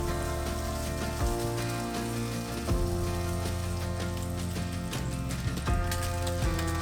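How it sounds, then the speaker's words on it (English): Spam fries in oil in a sauté pan over medium heat, giving a steady, dense sizzle and crackle that runs unbroken throughout, with faint tonal music underneath. "Fry some spam until it is slightly crispy."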